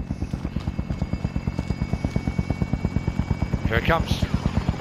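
Helicopter in a video game, a steady rapid rotor thump pulsing loudly and evenly throughout, with a voice speaking briefly over it near the end.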